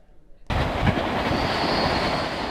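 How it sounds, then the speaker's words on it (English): A MARTA rail train arrives at a station, a loud, steady rumble of wheels on track that starts abruptly and holds for a couple of seconds with faint high squeal and clatter. "North Springs MARTA train approaching the station."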